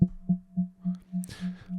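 An instrument's signal runs through a delay line with feedback, giving a steady tone that repeats in evenly spaced echoes about a quarter second apart, with a brighter noisy burst partway through.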